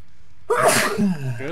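A single sharp sneeze from a person, close and loud after a moment of quiet, trailing into a brief voiced exhale.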